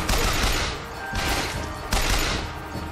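A repeater machine gun in the shooter Bioshock Infinite firing in loud, close bursts of rapid automatic shots, with three dense volleys in quick succession and brief dips between them.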